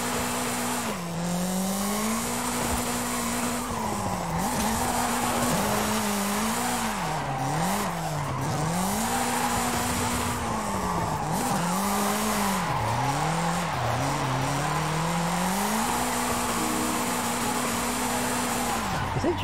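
A Toyota Celica in the Forza Horizon 5 racing game drones loudly and steadily for the whole stretch. The engine pitch rises and falls as the car shifts and brakes, with tires squealing through the corners.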